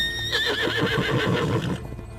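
A unicorn in the video game The Witcher 3 gives a close, clear neigh with a rising, quavering whinny, over faint steady background hum and soft hoof sounds.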